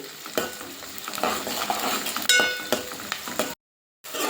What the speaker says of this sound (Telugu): కొన్ని వెల్లుల్లి ఒక స్పూన్ ధనియా వేసి గోధుమ రంగు వచ్చే వరకు వేయించుకోవాలి